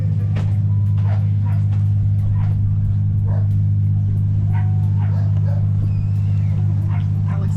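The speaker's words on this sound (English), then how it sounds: "We're right next to a catamaran with a big barking dog." A big dog barks repeatedly aboard a catamaran at a marina dock, sharp yips and woofs scattered over a loud, steady engine drone, with speech mixed in.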